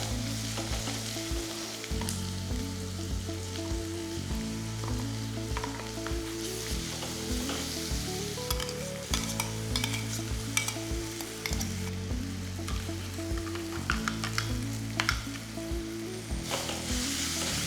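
Chopped onion sautéing with crushed ginger, garlic and green chilli in a pan, a steady loud sizzle with frequent scraping stirs and small spatula clicks, continuous throughout with no talk.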